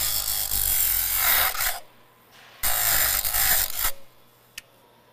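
Grinding away the weld on a bandsaw blade: two loud bursts of harsh, rasping abrasion of roughly two seconds each, split by a short pause, then a single faint click.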